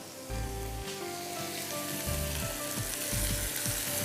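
Tomatoes hit a pan of hot frying masala, setting off a steady crackling sizzle with a few soft stirring knocks and scrapes, close and fairly quiet.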